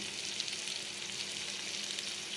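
Mushrooms with spice paste sizzle steadily in hot oil, a constant, even frying hiss with no talking.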